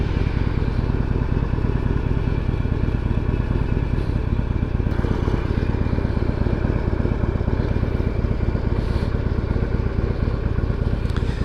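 A motorcycle engine runs steadily and loudly up close on a test ride, the bike freshly finished and burning paint off, with a dense throbbing rumble that never lets up.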